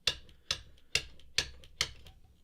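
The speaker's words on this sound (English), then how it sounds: "most of the sound you're hearing is the pedal board hitting the bottom of the frame" Bass drum kick pedal board striking the bottom of its frame, five sharp clacking knocks at an even half-second pulse, close and fairly quiet, each with a brief rattling decay.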